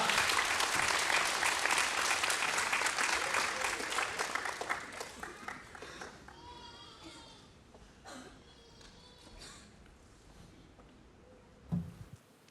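A church congregation at an all-generations Sunday service claps in welcome, a dense applause that is loudest at first and thins out over about eight seconds, leaving scattered claps and faint murmuring.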